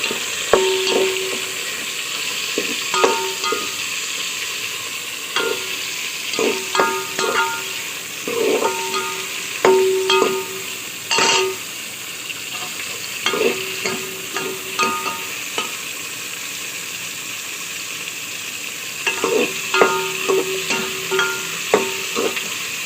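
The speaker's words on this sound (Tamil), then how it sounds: "இப்போ தக்காளி போட்டுடலாம் தக்காளி நல்லா வதங்கணும்" Tomatoes tossed with softened onions in a hot pan for a Thanjavur lentil-ball curry, giving a steady close sizzle broken by repeated scraping stirs, with no talking.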